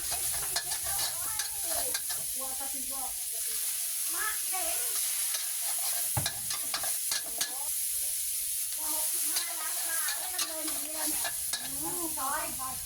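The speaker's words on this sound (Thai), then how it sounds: "ผัดไปจนสุกครับแล้วก็ปรุงรสชาติด้วยซอสหอยนางรมครับ" Minced pork with garlic stir-fried in a pan for a Thai fried egg and pork dish, a steady close sizzle broken by repeated scraping stir strokes, with a voice now and then under the frying.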